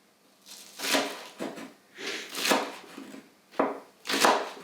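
Green onions, tops and some of the white part, being chopped with a knife on a cutting board: about seven distinct close chopping strokes in a loose, uneven rhythm, with quiet pauses between them.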